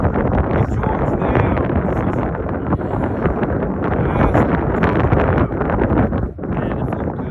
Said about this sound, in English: Wind's gusting to like about what, 12?